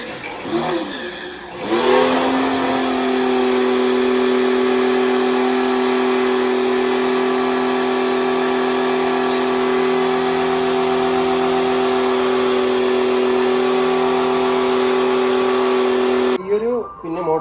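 A car-washer pressure motor, used to clean a muddy vehicle, starts up after about two seconds and runs with a loud, steady, even hum, then cuts off just before the end.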